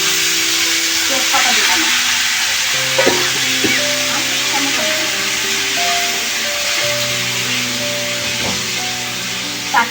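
Dry red chillies and potatoes fry in a pan, a loud, dense sizzle running throughout, with stirring knocks and faint background voices and household sounds beneath.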